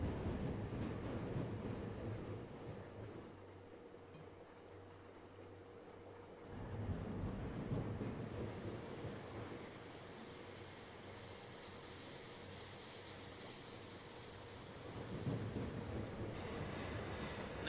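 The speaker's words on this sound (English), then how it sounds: "There goes an up train with empties." Freight train of empty wagons rolling past in Train Simulator on the Gotthard line, a long, steady, rumbling clatter of wheels with a faint high squeal, heard from a distance.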